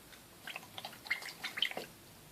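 Water drips and dabs from a wet brush while a decal is applied to an Airfix model, a quiet cluster of small wet ticks and squishes close up.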